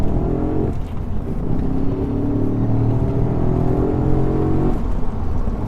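A 2007 Audi RS4's direct-injected 4.2-liter V8 revs loud and close with a deep, muscle-car-like burble, swelling and holding steady for several seconds before easing off, with no talk over it.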